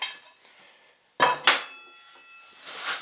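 A steel frontier skillet with a welded pipe handle is handled, giving a few sharp metallic clanks and clinks, two distinct hits close together, then quieter ringing and scraping.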